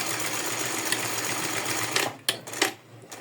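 A sewing machine stitches a bra top strap with a steady whirring run for about two seconds, then stops into a few short bursts and clicks as the stitching is finished close up.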